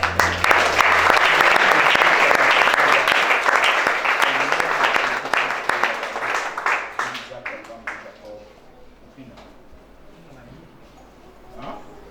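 A church congregation at a deliverance service claps and applauds in a dense, loud wash that thins out and fades to scattered claps, with voices mixed in.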